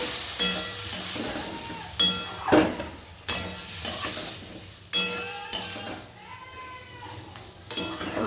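Spice paste frying in a pan with a little water added while cooking jackfruit curry, a soft sizzle broken by repeated scraping and stirring strokes, close up with no talk.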